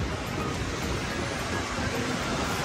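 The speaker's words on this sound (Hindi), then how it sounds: "बगल से आप नदी की आवाज़ सुन रहे हो" A river flows beside a mountain road on the route from Srinagar to Leh near the Zojila pass, a loud, steady broadband rush that fills the whole moment without pause.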